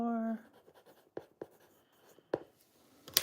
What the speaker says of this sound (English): Write the name,